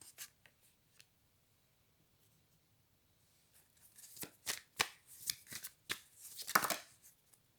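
Oracle cards are shuffled by hand, starting with a few faint taps and then a flurry of crisp riffling and slapping strokes up close, alone and fairly quiet.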